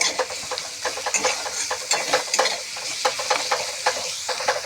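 Cumin and turmeric powder, chopped green chilli and salt fry in a pan, giving a steady sizzle broken by frequent scraping stirs of a utensil, close and fairly loud throughout, with no talking.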